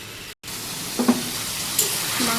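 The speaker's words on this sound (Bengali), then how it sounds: "এটাকে আমি ভালো করে হাই ফ্লেমে কষাচ্ছি।" Mutton pieces searing in a pan over a high flame, giving a steady close sizzle with a few light knocks of a utensil partway through.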